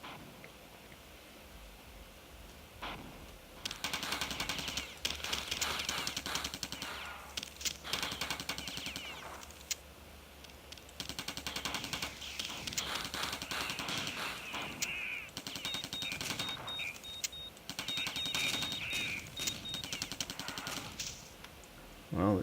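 Submachine gun fire in the Total Carnage arcade game, long sustained rapid bursts of dense, crackling shots with brief gaps, running steadily over a busy game soundtrack.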